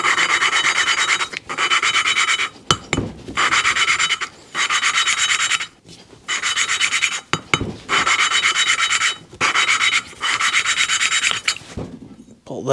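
Hand lapping of small engine valves from a Bombardier Quest 500 ATV, a suction-cup tool twisted back and forth against grinding compound, producing loud rhythmic rasping strokes in repeated bursts separated by short pauses.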